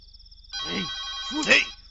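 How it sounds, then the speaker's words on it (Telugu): A telephone rings with a bright electronic trill that runs throughout the short scene, while people talk over it. "ఫోన్ రింగ్ అవుతుందిరా"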